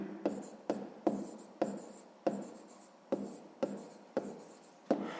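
A pen writes on paper up close during a sixth-grade maths exercise, producing a series of about seven short scratchy strokes at a steady rhythm, each beginning with a soft tap and tailing off, with no talk over them.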